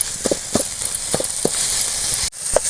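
Pulicha keerai greens cook down in hot oil, giving a steady close sizzle with scattered soft pops and crackles, briefly cut by a sharp clatter near the end.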